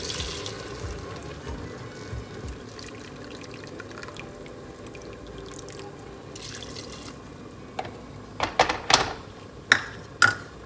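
About one and a half cups of hot water pours into rice for vegetable pulao as a soft, quiet trickle, followed near the end by a few distinct splashy drips.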